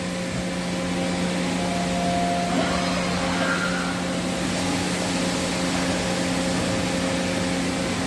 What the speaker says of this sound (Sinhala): මෙන්න මේ විදිහට තමයි රොබෝ අරගෙන යන්නේ මැෂින් එක